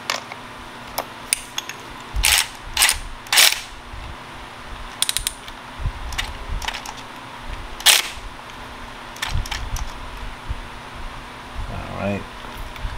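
A cordless power tool snugs a spark plug into the 2.0T engine of an Audi Allroad B8. It gives several short, close mechanical bursts with ratcheting clicks, separated by pauses and low shop background.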